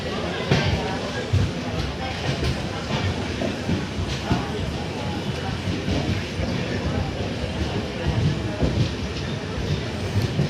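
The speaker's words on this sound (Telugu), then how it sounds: "మంగళగిరి రైల్వే స్టేషన్ ఇది" Railway station ambience at Mangalagiri, Andhra Pradesh, on the route past Vijayawada: a steady broad rumble of train and platform noise with scattered clatter, and voices mixed in throughout.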